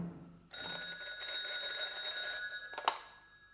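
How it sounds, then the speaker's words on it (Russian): A telephone bell rings loudly in a radio drama, one long continuous ring lasting about two and a half seconds and then cut off abruptly, with no voices over it. "Обер-лейтенант Шульце-Бойзен у телефона"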